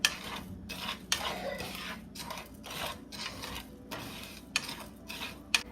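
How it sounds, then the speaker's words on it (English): Rice and corn stir-fried with Sichuan peppercorn in a pan, soft scraping and rattling strokes of a spatula in bursts with sharp clinks against the pan, close but quiet, no talking. "we stir fry"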